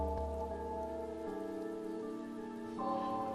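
Steady rain falls in a narrow alley in the Chaos;Child visual novel game, a continuous soft hiss that runs throughout beneath sustained tonal music, with no voices.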